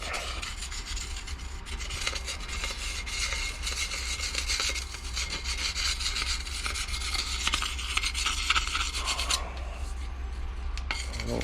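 An abrasive scraping back and forth across the brake rotor of a 2017 Jeep Renegade Trailhawk, a continuous close gritty rasping with a brief pause near the end and no voices.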